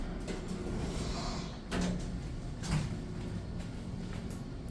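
A vintage Otis black-button service elevator door slides open in an old office building, with two short mechanical clunks over a steady low machine hum.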